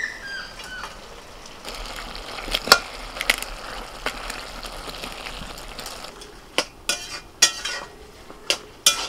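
Hilsa fish head going into a hot pan, giving soft sizzling and frying hiss with scattered sharp clicks and clinks of a utensil stirring, fairly quiet and close with no talking.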